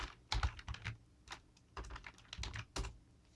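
Code being typed on a computer keyboard: bursts of quick, close key clicks in an uneven rhythm, with short pauses between clusters of keystrokes and no voices.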